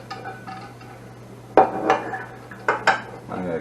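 A metal pot is handled on a stovetop while making green chile mac and cheese, giving a few sharp clanks and knocks in quick succession over a low steady hum.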